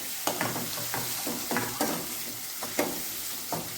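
Grated onion frying in a pan for a Punjabi yogurt tikhari, a steady sizzle broken by repeated scraping stirs roughly every half second, close and fairly loud with no talking.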